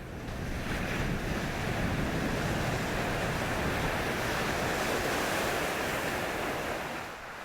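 Wind-driven winter surf pounds a deserted sandy shore in Gangneung, a dense continuous wash of breaking waves, loud and close, buffeted by wind and fading slightly at the end.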